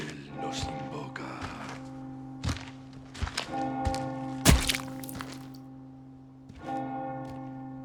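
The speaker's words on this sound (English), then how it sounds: "you notice the bell goes off" A bell tolls in the video game Resident Evil 4 Remake, a resonant church-style bell with ringing overtones, struck several times at irregular intervals among heavy thunks and cracks of nearby action.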